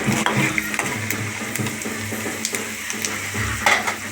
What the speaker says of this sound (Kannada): ಚೆನ್ನಾಗಿ ಫ್ರೈ ಮಾಡ್ಕೊಬೇಕು ಅರಿಶಿನ ಹಾಕೋರಿ